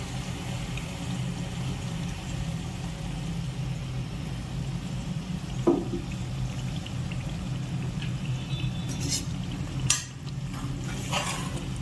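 Ground mint and coriander masala frying in a pan, a steady soft sizzle running throughout with occasional spatula scrapes and stirring clinks near the end.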